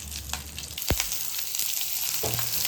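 Onions sauté in a hot pan with a dense, steady sizzle, close by, marked by a couple of brief utensil knocks and no voices.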